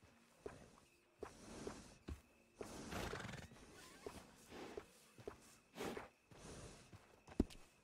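A horse in the video game Red Dead Redemption 2 neighs and snorts in repeated breathy bursts, with hoof steps mixed in, heard close and fairly quiet.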